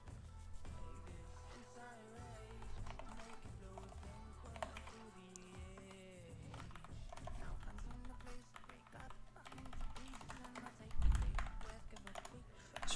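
Computer keyboard keys clatter in quick, uneven bursts during a coding session, close and fairly soft, running beneath a steady backdrop of music and occasional talk.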